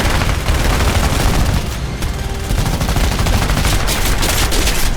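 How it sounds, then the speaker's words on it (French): B-24 bomber gunners of the 464th Bomber Group fire their machine guns in a 1944 air battle: a loud, continuous roar of rapid gunfire with heavy booming bursts, sustained and dense from start to finish with no talk. "tous les mitrailleurs du box du 464e Bomber Group vont répliquer à leur tour dans un déluge de feu"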